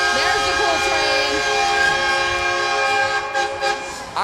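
The horn of a train float in a Mobile Mardi Gras parade blasts loud and sustained right up close, then fades out as crowd noise and voices come in near the end.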